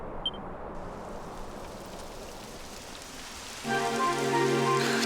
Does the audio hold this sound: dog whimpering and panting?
no